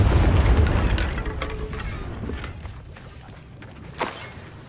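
Confringo fire spell explosion in the video game Hogwarts Legacy: a heavy booming blast that rumbles and slowly fades over several seconds, with a smaller sharp pop near the end.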